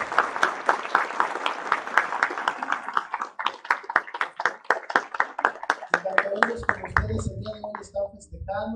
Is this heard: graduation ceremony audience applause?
yes